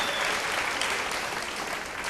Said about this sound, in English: Round of applause for the Cosmopolitan.